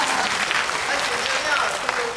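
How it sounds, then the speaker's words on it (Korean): Brief, steady clapping from a cinema audience at a guest-visit screening of Final Piece with actor Sakaguchi Kentaro at Megabox COEX, dense and moderately loud for its short span. "여러분 박수 한번 주세요."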